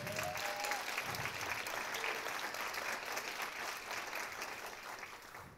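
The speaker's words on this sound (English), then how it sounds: "Let's give a round of applause for Laura one more time, please." An audience at a press briefing gives a steady round of applause, quiet and somewhat distant, holding evenly for several seconds before tapering slightly.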